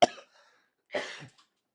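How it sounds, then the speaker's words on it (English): Two short coughs, close and fairly loud, separated by a brief pause. "I was holding in that cough."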